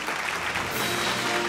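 A brand awards ceremony audience claps for Cetaphil, a continuous, full burst of applause with no talking over it.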